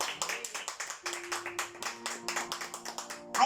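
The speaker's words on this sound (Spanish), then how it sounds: "Denle un aplauso al Señor si usted se alegra conmigo" Rhythmic clapping from a church congregation during a Sunday service, crisp, evenly spaced claps in a steady beat over a faint sustained tone.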